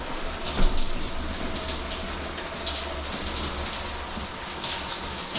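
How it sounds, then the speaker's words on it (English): Water running steadily through newly installed plumbing in a condo, a constant hiss of flow alone with no talk, even in level throughout. "I always let it run a few minutes because sometimes it takes a few minutes for the water to make its way through the thread."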